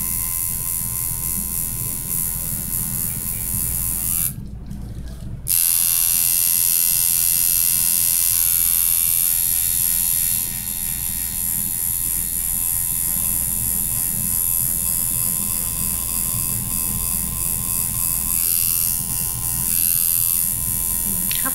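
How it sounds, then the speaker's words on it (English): A tattoo machine needle buzzes steadily and loudly near the listener, a continuous electric whine that breaks off for about a second, then resumes and holds to the end. "How fast is that needle going?"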